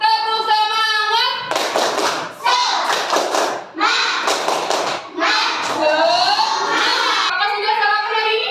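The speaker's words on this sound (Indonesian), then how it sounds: "Tepuk semangat." A school class performs the rhythmic 'tepuk semangat' clapping chant, loud bursts of group clapping in patterned sequences alternating with children's voices chanting in unison.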